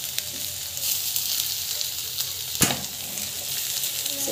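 Turmeric powder is sautéed in a pan, giving a steady close sizzle with occasional spoon stirs and one sharp clack of utensil on metal partway through, with no talking.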